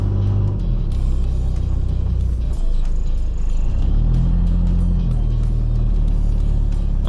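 A Toyota Land Cruiser KZJ90 engine runs at a steady, loud rumble with no break, its low drone shifting in pitch a couple of times as the idle changes.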